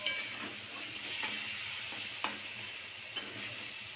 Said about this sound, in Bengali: আমি এবার দিয়ে দেবো টমেটো বাটাটা যেটা রেখেছিলাম পেস্ট করা টমেটো